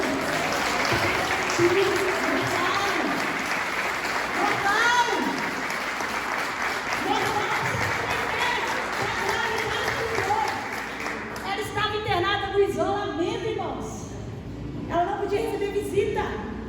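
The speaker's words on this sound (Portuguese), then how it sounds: "Você pode aplaudir o rei de novo?" Church congregation applauding at a Brazilian Portuguese celebration service, steady sustained clapping across the whole stretch with voices and speech mixed in over it.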